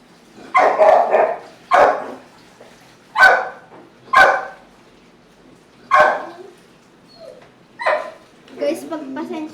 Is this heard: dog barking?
yes